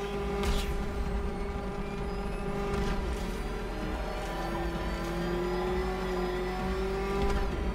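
Batmobile engine in Batman Arkham Knight droning with a sustained, slowly rising tone, a loud continuous motor roar running unbroken from start to finish without any talk.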